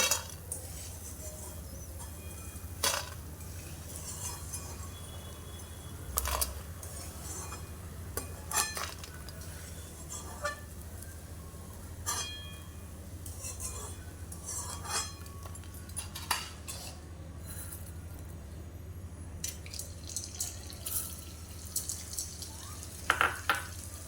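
Edible gum fries in ghee in a pan with a low, steady sizzle, broken by frequent sharp clinks and scrapes of a metal spoon against the vessel, with no talking.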